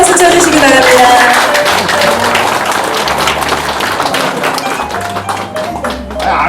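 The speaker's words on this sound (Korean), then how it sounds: "큰 박수 쳐주시기 바랍니다" A crowd at a book-launch concert bursts into loud, sustained clapping that gradually thins, with a faint musical tone underneath.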